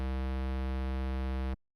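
A heavily clipped sine wave, distorted toward a square-like tone, drones loud and steady with a dense stack of harmonics, then cuts off abruptly after about a second and a half.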